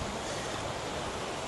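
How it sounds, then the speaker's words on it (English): A river flows far below a forest trail in Japan. It is a steady, broad rushing wash with no break through the short stretch. "The river flowing down there."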